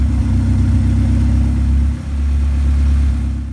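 A flooded car engine running on a lawnmower carburetor, idling with a steady low rumble and a brief dip near the middle, close and loud, no talking.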